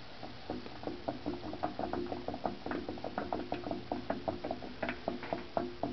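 A vacuum coffee maker brewing, giving off a rapid stream of small clicking, bubbling pops in an uneven rhythm, close and moderately quiet with no talking.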